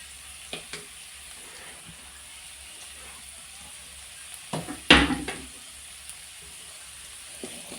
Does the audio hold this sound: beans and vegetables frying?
yes